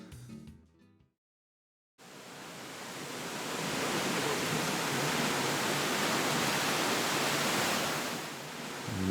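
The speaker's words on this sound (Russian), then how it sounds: "мы оказались прямо внутри водопада" A waterfall roars inside a grotto, a dense, steady rush of falling water that swells in and fills the space, loud and continuous after a brief quieter moment at the start, with no voices.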